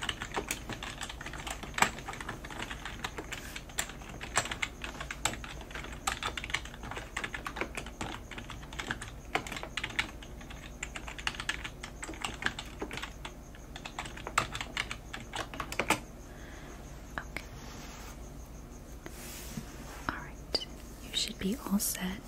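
Computer keyboard at a library checkout desk, soft rapid clicking keystrokes in close, steady bursts with brief pauses, under occasional whispered talk.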